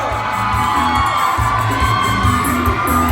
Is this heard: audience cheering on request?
yes